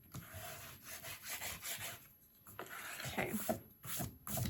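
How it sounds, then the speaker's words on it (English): A scraper rubs firmly over paper glued onto an altered Little Golden Book folio, giving a run of close, dry scraping strokes with short pauses between passes; a voice briefly speaks. "I'm gonna run scraper over it real quick like and make sure it's down really well"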